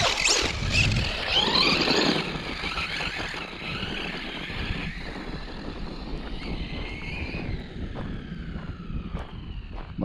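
A Traxxas MiniMAXX RC truck on a 3S battery driving over a frozen gravel pit in winter, its motor whining and rising in pitch as it accelerates, with crunching gravel and wind noise.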